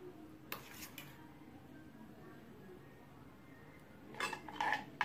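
A spoon clinks and scrapes against a metal saucepan in short bursts, stirring powder into water, with a quiet pause between two brief bouts of stirring.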